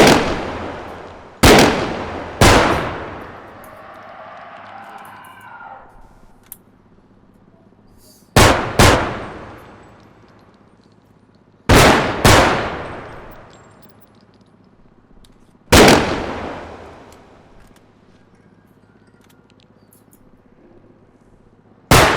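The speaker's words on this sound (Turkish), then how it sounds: "Bu tüfek iyi değil ya. Tek tek atıyor bana." A video game rifle fires single shots one at a time, about seven sharp, loud cracks spaced irregularly, each trailing off in an echoing decay.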